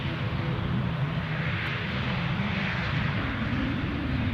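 A Ryanair airliner taxiing at Edinburgh Airport gives off a constant broad engine roar and rumble at moderate distance, holding steady throughout with no talk.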